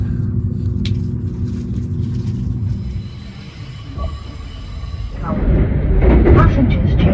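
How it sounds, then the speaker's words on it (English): A train pulls into Tokyo Shinjuku Station at night with a steady low rumble from inside the carriage that eases off midway, then swells into a louder, rougher roar as it arrives. "It was pretty cool pulling back into Tokyo Shinjuku Station at night."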